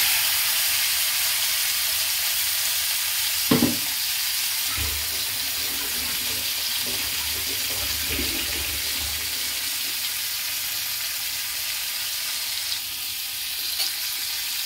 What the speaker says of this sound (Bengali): দিয়ে সোজা একদম কড়াইয়ে ছ্যাং করে ছেড়ে দেব